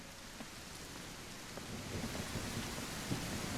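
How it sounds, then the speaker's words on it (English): Steady rain falling outdoors, a dense even hiss of drops on surfaces with faint low rumbles beneath, continuous throughout with no voices. "Oh, and it's raining."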